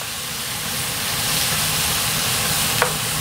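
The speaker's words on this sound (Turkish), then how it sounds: "Şöyle hemen soğanları bir karıştıralım." Onions being stirred in hot fat in a pan, with a steady loud sizzling hiss throughout and a brief utensil scrape near the end.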